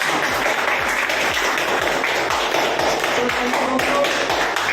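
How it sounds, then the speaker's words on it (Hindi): An audience at an MLM company event breaks into steady, dense applause, many hands clapping continuously at a loud, even level with no talking. "उनके लिए और जोरदार तालियां हो जाए।"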